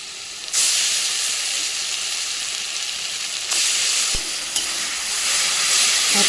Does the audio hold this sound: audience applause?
no